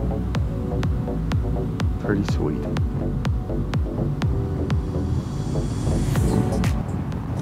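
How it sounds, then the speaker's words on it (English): Heavy wind buffets the microphone with a constant low rumble and throbbing outdoors in Rocky Mountain National Park, and a voice speaks briefly over it. "Sorry about the wind, it's super windy."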